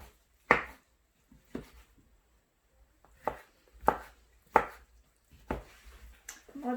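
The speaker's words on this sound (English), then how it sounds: "I'm going to chop my mushrooms up" A knife chops mushrooms on a cutting board in slow, separate strokes, about seven crisp thuds spaced a second or so apart, close and otherwise quiet.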